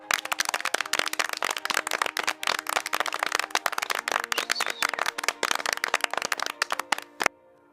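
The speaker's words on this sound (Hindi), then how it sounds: "गांव वाले खुश होते हैं और तालियां बजाते हैं।" Villagers clapping in a Rampur village crowd at a pani puri competition, a dense run of sharp hand claps filling the clip at steady loudness before stopping abruptly near the end.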